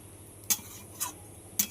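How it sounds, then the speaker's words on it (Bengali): Spoon stirring spinach and bottle gourd in a pan, three quiet, evenly spaced clinks against the metal over a soft background hum, as the vegetables are turned and the lid goes back on. "খুব ভালো করে নেড়ে আবারও আমি ঢাকা দিয়ে দিলাম"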